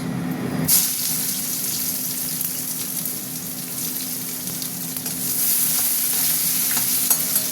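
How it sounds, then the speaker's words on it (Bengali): A loud, continuous hiss of onions frying in hot oil with dried red chillies and bay leaves, steady and close, with a brief clatter at the start and no talking. "পেঁয়াজটা একটু ভাজা ভাজা হোক"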